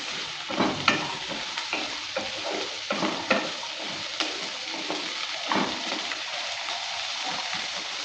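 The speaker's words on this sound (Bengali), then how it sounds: "কাঁঠালের বীজ একসঙ্গে ভেজে নেব রসুন আর পেঁয়াজের সঙ্গে" Jackfruit seeds frying in a pan with garlic and onion, a continuous close crackling sizzle broken by repeated scraping stirs of a spatula.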